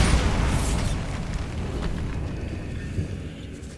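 A Bombarda spell blasts in a decayed catacomb in Hogwarts Legacy, a loud deep boom with rumbling debris that slowly fades over several seconds, with no voices.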